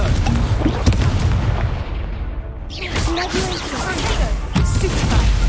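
Explosive Confringo spell blasts in a Hogwarts Legacy combat scene, loud booming bursts and crashes layered over game noise and shouted voices.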